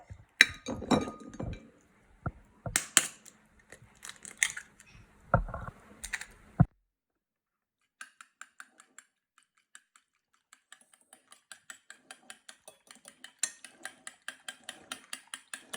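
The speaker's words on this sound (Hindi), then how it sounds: "ये हमने बीट करना है एकदम से, जब तक येल्क और वाइट हमारा मिक्स ना हो जाए" Eggs beaten in a bowl for frying fish cutlets: some clattering handling at first, then after a pause a steady run of quick, crisp clinks that grows faster and denser, close and alone.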